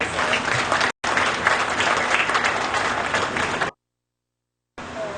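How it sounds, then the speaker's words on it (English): Applause at a cow show for junior exhibitors, a dense, loud wash of clapping from a crowd, briefly cut off twice with a silent gap near the end. "Let's give all the junior exhibitors a big round of applause."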